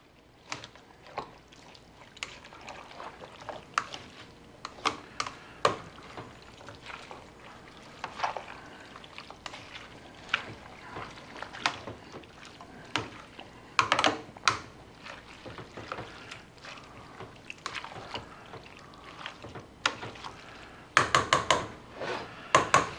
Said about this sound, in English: Now we're gonna give this a stir, get all this mixing together, melding together